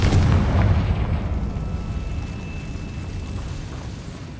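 A Confringo blasting spell in Hogwarts Legacy sets off a heavy, booming explosion that rumbles loudly at first and then fades into a long, low roar.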